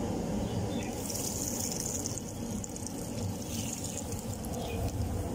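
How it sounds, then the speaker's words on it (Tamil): Tamarind water poured into a pot of simple lentil sambar (paruppu kuzhambu) for rice, a steady close liquid pouring and sloshing that runs unbroken for several seconds with no talk. "புளி ஊற்றி நல்லா வந்து கலக்கிக்கலாம்."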